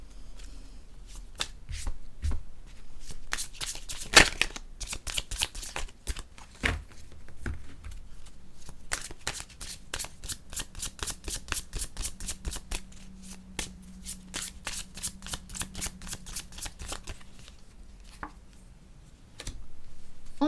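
Cards are shuffled for a card reading: crisp riffling flutters and rapid rhythmic slaps in close, quiet bursts, with a louder snap early on and no speech.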